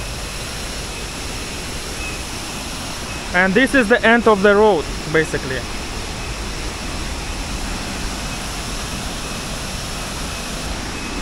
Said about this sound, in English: Aling-Aling waterfall, 35 meters tall